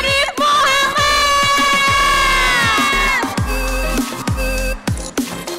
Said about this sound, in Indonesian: Terima kasih, tepuk tangan dulu. Tepuk tangan semuanya.